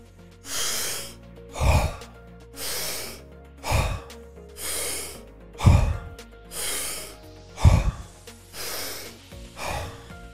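Rounds of deep breathing exercise: about ten loud, close breaths alternate evenly, each a sharp inhale followed by a long breathy exhale, repeating in a steady rhythm with no talk.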